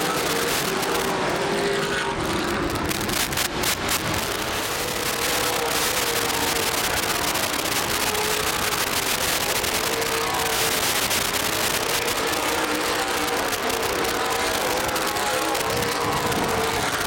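ARCA/CRA Super Series race cars lapping Anderson Speedway under green-flag racing, a loud continuous roar of several engines blending together throughout.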